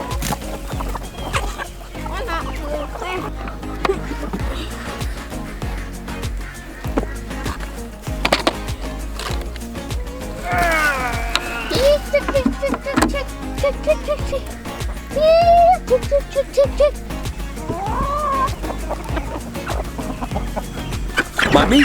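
Backyard egg-laying chickens clucking and murmuring close by, a steady run of short calls with occasional louder squawks over a constant low hum and scattered clatter.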